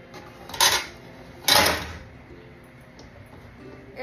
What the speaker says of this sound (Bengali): এই যে আমি পিৎজাটা এখন গুঁড়ি দিচ্ছি ঢাকনা দিয়ে